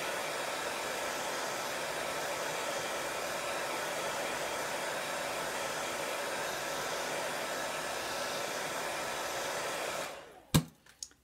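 Hair dryer blowing steadily on a chalk-paint wood cutout, a continuous loud whoosh that runs unbroken before cutting off with a few clicks and knocks.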